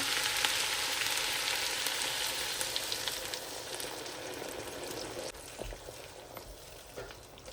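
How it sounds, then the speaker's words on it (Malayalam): Loud, steady sizzling as water is poured into a hot pan of vegetable kurma, gradually settling into a softer, bubbling hiss, with a few faint knocks near the end. "ഇനി നമുക്കിതിലേക്ക് വെള്ളം ഒഴിച്ചു കൊടുക്കാം"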